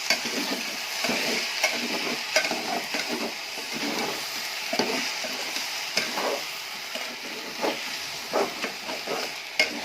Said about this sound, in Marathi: गूळ पूर्ण वितळून घ्यायचा